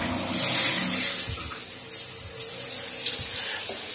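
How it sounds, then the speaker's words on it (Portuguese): Water runs through a newly installed Lorenzetti Tradição electric shower, a steady hissing stream with splashing, close and continuous for several seconds with no talking. "Eu vou passar água de novo."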